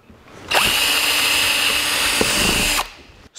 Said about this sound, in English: We'll drill an 1/8 inch pilot hole to start with,